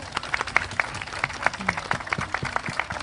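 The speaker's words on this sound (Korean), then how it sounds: "여러분 큰 박수 주십시오" Scattered applause from an outdoor crowd at a memorial gathering in Gwanghwamun Square, Seoul, with a few sharp claps over a low murmur, fairly distant and subdued.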